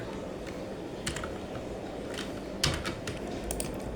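Python code typed on a computer keyboard in a quiet room: sparse, light key clicks in short bursts, with one firmer tap near the end.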